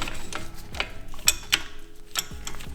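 A brake piston separator tool is cranked on a Brembo caliper of a BMW 335 F30, giving a steady run of close metallic clicks and ticks with a ratcheting rhythm.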